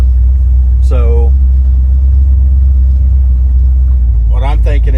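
A big-block car engine idles in a parking lot with a loud, steady low rumble throughout, while a voice speaks briefly twice over it.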